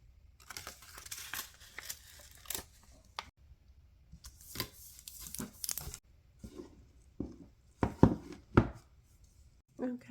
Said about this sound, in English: I'm going to just peel the back off to stick it to the tray